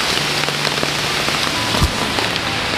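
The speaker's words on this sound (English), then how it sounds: "It's been pouring rain." Steady pouring rain on a Monday morning at a deer hunting stand in New York. A dense, loud hiss runs through without a break, with one brief dull knock near the end.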